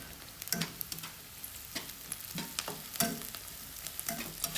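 Curry leaves and green chillies fry in hot oil for a prawn gravy, giving a faint steady sizzle broken by sharp crackles and stirring clatters at irregular intervals.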